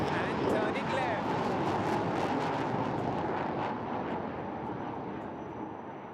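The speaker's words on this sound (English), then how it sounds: "the mighty Sukhoi 30 MKI, taking off and turning left" A Sukhoi 30 MKI fighter jet takes off and turns left at the Aero India 2021 air show, a loud, steady roar that fades slightly as it climbs away.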